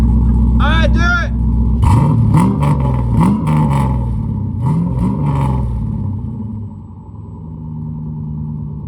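LS V8-swapped Mazda RX8 running and revving, loud close engine rumble with several sharp rising revs before settling into a steady idle, with people talking and shouting over it.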